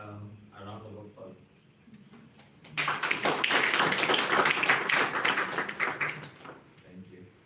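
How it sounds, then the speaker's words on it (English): An audience at a food-themed speaker series bursts into loud, dense applause for a speaker. The clapping rises after a stretch of talk and fades back into speech. "And we'll give Dr. Kuya a round of applause."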